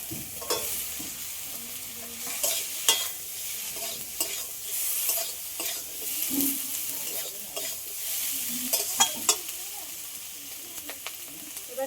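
Fried potatoes tumble into a simmering curry of live singi and magur fish with thankuni leaves, a spatula stirring and scraping steadily against the pan over a continuous close sizzle of frying.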